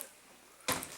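An old side door of an abandoned house swings open with a sudden bright creak and scrape after a moment of quiet, close and fairly sharp.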